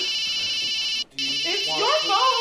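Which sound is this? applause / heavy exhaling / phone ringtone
phone ringtone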